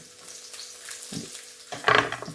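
Ginger frying in a non-stick pan, a soft close sizzle that swells into a louder crackling burst near the end.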